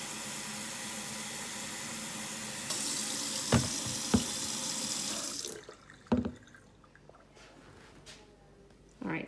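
Tap water runs steadily into a pot of dried red beans in a kitchen sink, a continuous rushing splash that grows slightly louder partway through, then cuts off, leaving a few drips and soft knocks from the pot.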